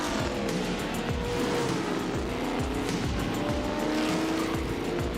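Race car engine roars loudly through hard acceleration with tire squeal, continuous and close throughout, drag racing style.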